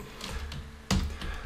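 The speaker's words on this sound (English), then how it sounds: "Start typing." Typing on a computer keyboard during HTML coding work, with a few quick key clicks followed by a louder burst of keystrokes, heard close and on its own.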